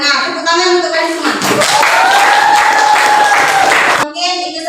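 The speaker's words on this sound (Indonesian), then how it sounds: "Tepuk tangan untuk kalian semua." Students in a classroom clap together in a loud, dense burst of applause lasting a few seconds, with children's voices sounding before and after.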